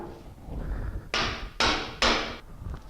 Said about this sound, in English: we're going to use our sleeve again to press it into place